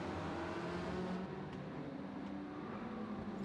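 Race car engines drone steadily during a Gran Turismo 7 video game battle involving a Viper and a Supra Concept World Touring Car 700 at Autopolis, Japan, a constant faint, far-sounding hum with no clear revs or voices.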